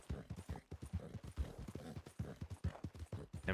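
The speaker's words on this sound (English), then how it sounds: "look, the horse Millie bought" Horse hooves clip-clop at a steady walking rhythm in a Red Dead roleplay video game, with the hoofbeats quiet and fairly close.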